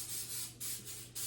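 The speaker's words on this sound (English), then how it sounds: "I'm gonna spray my muffin tin really, really well." Three quick hissing bursts of non-stick cooking spray coated onto a muffin tin, each lasting about half a second with brief gaps between, close and alone.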